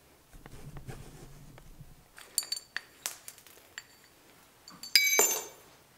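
Metal parts of a 2007 Dodge Ram air conditioning compressor clink and rattle as it is split apart: soft handling noises first, then a run of sharp close metallic clinks and a louder clatter.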